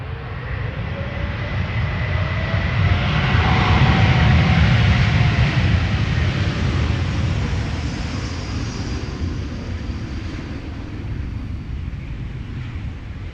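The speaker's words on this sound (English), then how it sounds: "Nice to hear that the reversers are actually working on these airplanes." KLM airliner landing at Amsterdam Schiphol Airport with its engine thrust reversers deployed, a loud broad jet roar that swells and then slowly fades as the aircraft slows along the runway.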